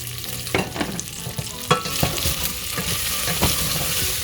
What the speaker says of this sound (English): so we can fry up everything.